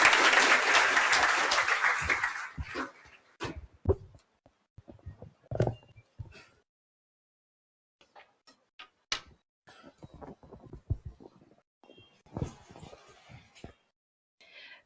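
Students in a classroom break into brief applause at the start, then scattered claps, taps and shuffling noises trail off sparsely over the remaining seconds.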